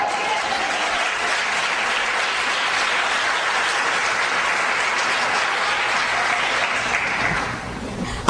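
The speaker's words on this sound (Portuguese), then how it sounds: "Aplauda Jesus." Church congregation applauding together, a dense, sustained wash of clapping that holds steady for several seconds before easing off near the end, with no talk over it.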